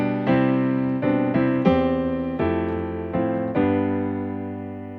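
Piano plays a slow chordal phrase, about six sustained chords struck one after another at an even, unhurried pace, each ringing and decaying, close and clear with no talking.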